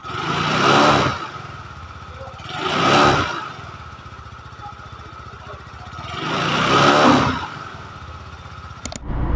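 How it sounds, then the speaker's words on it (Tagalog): A Motorstar Skygo motorcycle engine runs at idle near the microphone, swelling in three separate throttle revs that rise and fall back to a steady low putter, with no one speaking. "Ganda yung motorcycle"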